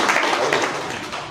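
An audience at a political meeting claps, a dense burst of many hands that is loud and fairly close and fades a little over about a second.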